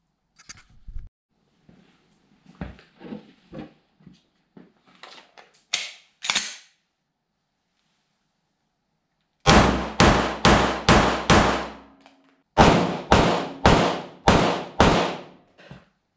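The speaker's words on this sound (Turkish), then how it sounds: "Bir sesini duyalım şu tabancanın." A Derya Arms DY9 pistol fired in two strings of five shots each, sharp loud cracks in a quick steady rhythm, preceded by quieter handling clicks and clatter of loading.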